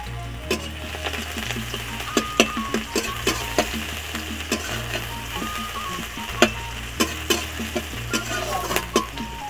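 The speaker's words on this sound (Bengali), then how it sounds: "এখন পেঁয়াজ কুচানো দিয়ে দিচ্ছি।" Chopped onions dropped into hot oil in a wok, sizzling continuously while a utensil stirs and taps against the pan in irregular clicks, close up, with a low repeating hum underneath and no speech.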